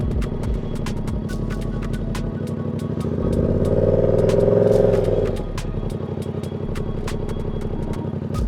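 Motorcycle idling, then its engine swells as the rider lets out the clutch and the bike lurches forward, the revs rising and falling back to a steady chugging idle with a faint ticking clatter throughout.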